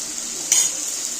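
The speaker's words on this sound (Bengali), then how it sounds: "এই পেঁয়াজ রসুন আর যা দিলাম সেটা আগে একটু ভালো মতো ভাজা করে নেব, কষিয়ে নেব" Onion, garlic and green chilli fry in a pan with a soft, steady sizzle, a brief louder burst of hissing mid-way as the mixture is stirred.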